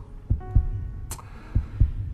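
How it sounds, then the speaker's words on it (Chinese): A heartbeat thumps in close, muffled double beats, two pairs within a couple of seconds, over a low hum, with a brief higher rustle between them. "我就拼命练习听心跳"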